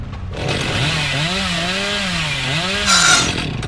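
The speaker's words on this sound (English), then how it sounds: "I think I should cut through the tree. It's a chainsaw after all." A chainsaw in the video game Dead by Daylight revs and cuts through a tree, a loud sustained buzzing whine whose pitch rises and falls in two long swells, ending with a brief sharper burst.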